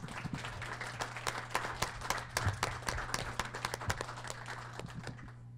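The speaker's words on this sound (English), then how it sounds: "Let's give them a round of applause." Applause from a downtown Fort Wayne community gathering honoring local business owners, a moderate crowd clapping steadily with distinct individual claps, tapering off toward the end over a faint background hum.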